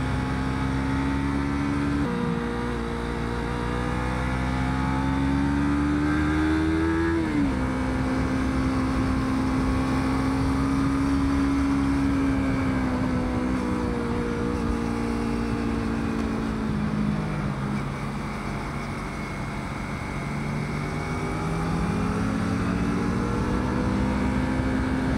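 A motor engine runs steadily and loudly close by for the whole stretch, with its pitch rising and dipping as it revs and eases off.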